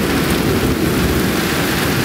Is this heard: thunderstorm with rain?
yes